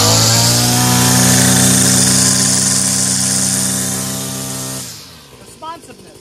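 A 26cc gas weed trimmer engine runs loud and close at high revs with a steady buzzing drone, then drops off to a rough, quieter idle. No one speaks.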